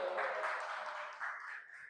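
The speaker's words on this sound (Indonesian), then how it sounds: "Tepuk tangan untuk kita semua." Students in a classroom give a short burst of applause, a dense, fairly quiet patter of clapping that tapers off within two seconds, with no talk over it.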